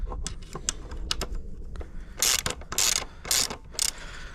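Ratchet with a 13 mm socket working loose the bolts on a Sur-Ron Light Bee electric dirt bike, heard as several short bursts of quick mechanical clicking between lighter taps, close and alone.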